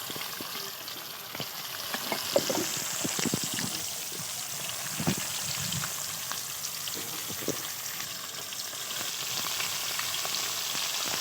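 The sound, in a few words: chela fish frying in a pan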